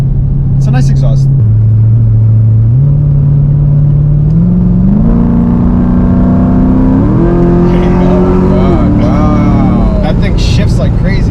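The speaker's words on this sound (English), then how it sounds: "But once you like beat on it, oh, the thing it's loud." A cammed Jeep SRT engine with a loud exhaust revs hard for about eleven seconds, climbing in stepped surges of pitch. The heavy, rumbling drone is close and dominates throughout.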